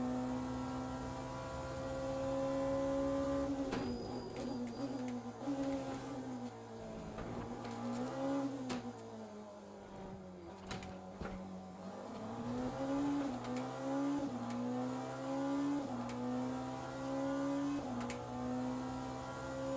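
Race car engine in the Le Mans Ultimate racing game, driven through the Porsche curves: a loud, sustained engine drone whose pitch swoops up and down with shifts and corners, running alone without talk.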